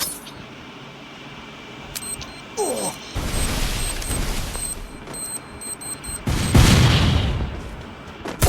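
A hand grenade goes off with a heavy, sustained roar that swells twice, the second burst louder and deeper, over a hissing background with a few faint metallic pings beforehand.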